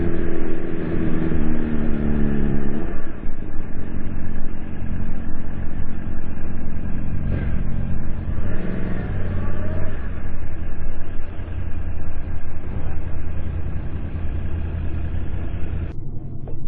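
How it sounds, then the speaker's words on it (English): A vehicle's engine runs loud and close, its pitch climbing and falling as it revs and then slows under hard engine braking, a steady mechanical drone throughout. "I mean, it engine brakes hard."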